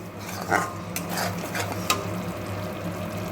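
Spiced masala with salt and turmeric being stirred in a pan, a soft low sizzle under a few scraping spatula strokes and light clinks, close but fairly quiet, with no talking.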